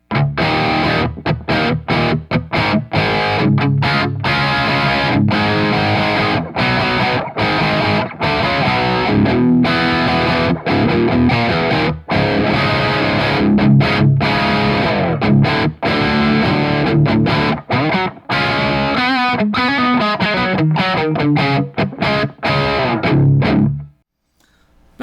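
An Epiphone Les Paul fitted with an EMG pickup plays a crunchy, distorted rock riff through an amp's orange channel, loud and continuous for about twenty-four seconds before stopping abruptly.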